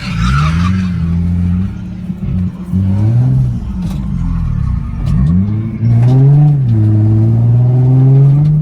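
A Nissan 350Z engine revs hard and steadily while the car sits stuck in a ditch at a speedway drift event, its pitch rising and falling with each throttle blip, close and loud throughout.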